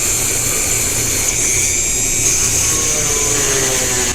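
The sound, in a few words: power drill countersinking holes for screws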